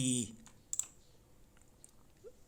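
A computer mouse gives a quick pair of faint clicks after a short burst of sound, followed by quiet room tone.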